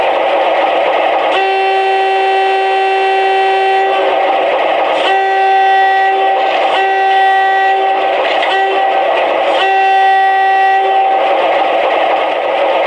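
The horn of an MTH model GE 44-tonner diesel locomotive sounds in several loud, sustained blasts with brief gaps, over a steady engine rumble.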